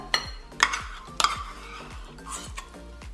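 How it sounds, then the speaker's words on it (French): A utensil mixes mashed sweet potato with flour into pizza dough in a bowl, giving a series of about six close, sharp clinks and taps in an uneven rhythm. "Donc on peut mélanger avec la farine."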